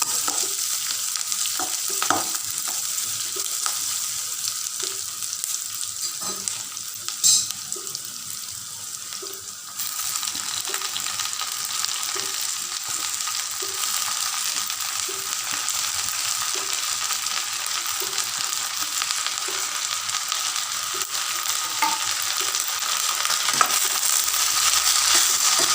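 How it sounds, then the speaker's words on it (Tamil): Drumstick leaves and onion sautéing in a pan for an egg poriyal, a steady close sizzle with frequent scraping stirs throughout, no voices. "முருங்கைக்கீரை நல்லா வதங்கணும்"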